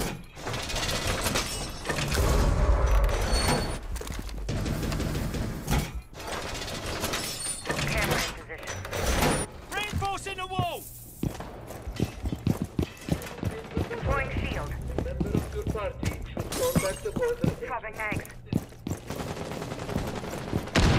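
Rapid gunfire and blasts crack through a Rainbow Six Siege ranked match, dense bursts and single shots mixed with clattering mechanical and shattering effects, while in-game voices speak over the action.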